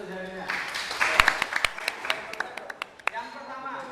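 A classroom group claps hands in scattered, uneven bursts that start loud and thin out into sparse individual claps. Speech-like voices are audible underneath at the start and end.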